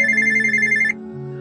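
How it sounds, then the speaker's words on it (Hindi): A phone rings for an incoming call with a bright, steady electronic tone that cuts off abruptly partway through, leaving a quiet low hum. "अदिति और सिया बात कर ही रहे थे कि आदित्य का फोन आ गया।"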